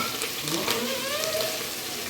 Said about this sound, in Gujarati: આ જો ખમણનો વઘાર.